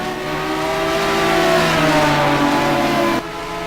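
McLaren race car in a sim racing game at Spa, its mid-pitched engine holding a loud, steady revving whine with rising harmonics, then cutting off abruptly near the end.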